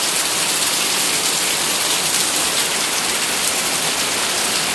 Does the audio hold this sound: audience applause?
no